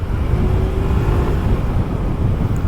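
A 2023 Kymco Agility S scooter with a 16-inch front wheel carries through corners, its engine droning steadily and close under heavy rushing wind noise, with no change in pace across the clip.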